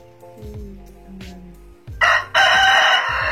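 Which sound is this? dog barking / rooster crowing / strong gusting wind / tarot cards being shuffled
rooster crowing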